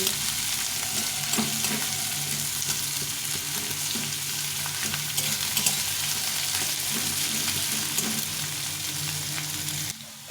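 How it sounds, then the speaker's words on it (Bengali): Chopped onions, cut into coarse pieces, fry lightly in a pan for chickpea ghugni, a steady close sizzle with soft stirring scrapes running throughout, ending abruptly near the end. "পেঁয়াজটা একটু ভেজে নিয়েছি একটু কম করে ভেজে নিয়েছি"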